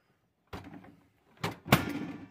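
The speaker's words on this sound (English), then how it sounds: "I'll shut the door." A door on a pachislo slot machine is pushed shut, giving a soft knock and rattle followed by a sharper latching thud near the end, close by with no talking.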